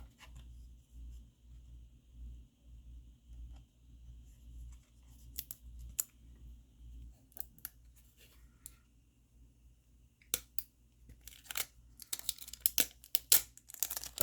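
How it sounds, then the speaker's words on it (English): Thin protective plastic film being peeled from the back cover of a brand-new Samsung Illusion (SCH-I110) phone, a quiet close crinkling and tearing that grows into sharper, louder crackles toward the end, with a low hum underneath. "Now I'll peel off the back plastic"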